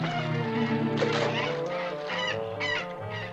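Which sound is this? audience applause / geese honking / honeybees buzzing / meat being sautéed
geese honking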